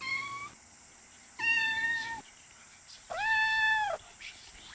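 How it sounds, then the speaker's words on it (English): Two drawn-out synthetic cat meows from the video game OFF, clear and steady in pitch, over a quiet background hum. "the judge is walking in circles on the roof, still meowing for his dead brother"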